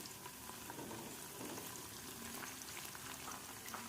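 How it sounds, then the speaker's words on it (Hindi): Onions sizzle and crackle steadily in a hot pan while cooking Lahori bong paye, a dense, continuous frying hiss with small pops throughout and no talking. "प्याज अच्छे से फ्राई हो रहा है"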